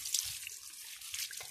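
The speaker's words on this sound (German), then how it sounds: "Wird die Minze noch ein bisschen gegossen." Water poured onto a potted mint plant in the evening, a soft splashing trickle with small drips, fairly faint and close, running steadily for under two seconds.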